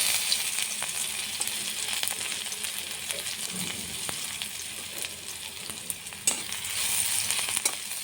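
Chopped garlic fries in hot oil in a pan for leafy greens, giving a steady broadband sizzle with intermittent scraping clicks of stirring, close and continuous throughout with no talk.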